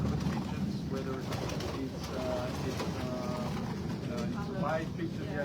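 Pigeons in a Belgian pigeon loft housing black and chocolate birds coo softly in low, rolling calls amid a dense, steady murmur of many birds, with faint background voices.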